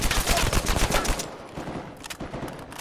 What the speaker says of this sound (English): Because fools are shooting like crazy right there.